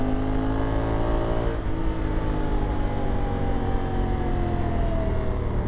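A touring motorcycle engine accelerates hard, close and loud, its pitch climbing steadily through a sustained pull with no voices.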